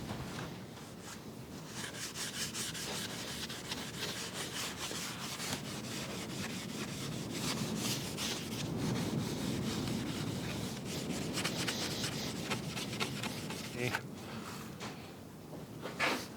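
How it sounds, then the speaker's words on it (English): Hand sanding scuffs a walnut panel with continuous rhythmic rubbing strokes, a fast back-and-forth scratchy friction that runs close and steady for about sixteen seconds. No one talks over it. "You just scuff it. That's all you're doing."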